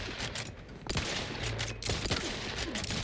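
Shotgun gunfire in the sci-fi video game Outer Worlds 2, a dense run of loud, overlapping shots and booming blasts over continuous combat noise.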